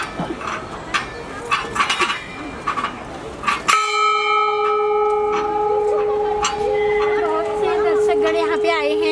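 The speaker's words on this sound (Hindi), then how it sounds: "बहुत बड़ा घंटा" A large temple bell at the main gate of Baijnath temple in Garur, Uttarakhand, sounds once loudly after a stretch of chatter and clinking, then rings on with a long, even, sustained tone.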